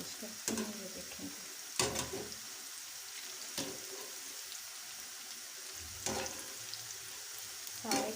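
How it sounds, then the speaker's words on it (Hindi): Pakoras for kadhi pakora fry in hot oil with a steady, close sizzle and hiss, broken by a few sharper clatters and scrapes as the pieces are stirred and turned. "सारे पकौड़ों के हमें इसी तरह साइड चेंज करने में तो मज़ीद 5-6 मिनट और हम इसको पकाएंगे"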